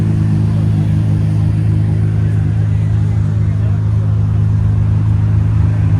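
A Nissan GT-R fitted with a drag parachute, at a Palm Beach cars and coffee meet, gives a loud, steady low engine rumble that holds throughout, with crowd voices faintly mixed in.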